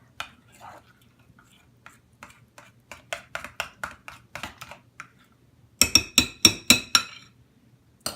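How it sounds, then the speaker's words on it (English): Spoon roughly stirring a pre-beaten mixture in a bowl for pumpkin pasties, giving light scattered clinks that build into a quick run of louder, ringing taps against the bowl toward the end. "So get a rough stir with your spoon."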